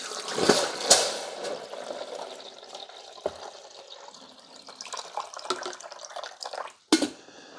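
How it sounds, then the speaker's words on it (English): Fresh water poured from a carafe into the reservoir of a Black+Decker CM1160B 12-cup programmable coffee maker, a splashing, trickling pour with a few sharp knocks and clunks of the carafe and lid. "Now I'm gonna pour it back here."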